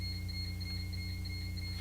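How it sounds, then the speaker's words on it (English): A door buzzer sounds continuously as a steady electronic tone over a constant low hum in a town board meeting room, loud and unbroken throughout. "Do you think that's why the buzzer's going off right now?"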